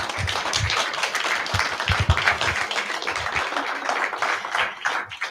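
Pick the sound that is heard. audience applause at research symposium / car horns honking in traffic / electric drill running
audience applause at research symposium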